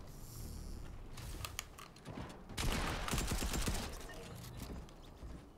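Rapid bursts of gunfire from the video game Fortnite crackle in clusters, with a denser volley in the middle, loud and close against game ambience.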